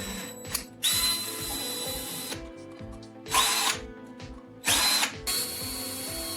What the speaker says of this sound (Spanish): Haz un agujero en la botella.